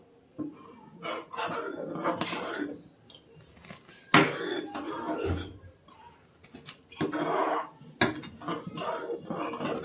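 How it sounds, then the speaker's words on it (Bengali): Milk is stirred in a pot as it thickens, with irregular scraping and rubbing strokes of a spoon against the pan coming in uneven bursts, close and moderately loud. "দুধটা খুব নেড়ে নেড়ে ঘন করে জাল করে নিচ্ছি।"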